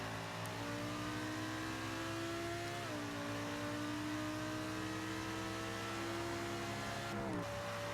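Lamborghini race car engine in an endurance racing video game at Daytona, a loud sustained whine that holds steady and shifts pitch with gear changes, several engines layered in a continuous drone.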